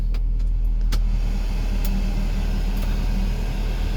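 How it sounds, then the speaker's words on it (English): The vent blower of a Subaru Sambar KS4 kei truck runs in the cab, giving a steady, close, low whooshing hum with a few light clicks near the start. "And then we got a vent blower."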